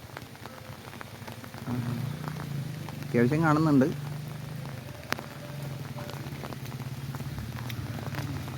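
Rain falls steadily at Mel Palani, a constant soft hiss close around while a person talks over it.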